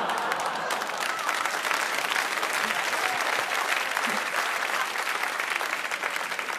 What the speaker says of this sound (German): schön, dass Sie noch klatschen können hier in der 5. Welt.